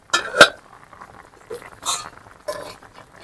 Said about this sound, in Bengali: আমি এখন বাকি যে সবজিগুলো ছিল সেগুলো দিয়ে দেবো